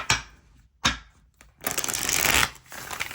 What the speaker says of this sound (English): I don't know why I felt the need to shuffle right now.